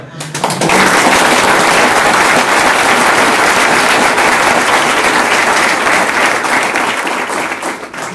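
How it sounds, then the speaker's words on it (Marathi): An audience at a police superintendent's office event breaks into loud, sustained applause that swells quickly and holds steady for several seconds, fading slightly at the end. "यांच्यासाठी तुम्ही इतक्या जोरदार टाळ्या वाजवा."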